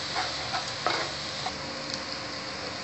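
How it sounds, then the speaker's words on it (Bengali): Ground cumin spice paste sautéing in a pan, a faint steady sizzle with a few light scraping stirs, no talking. "জিরের গুঁড়ো, মশলাটা কষানো হলো।"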